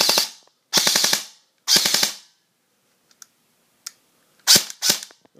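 JG M4 airsoft electric gun on full auto, fired in three rapid bursts of mechanical clicking rattle, then a pause with a few faint clicks and two more short bursts, close and loud, no talking.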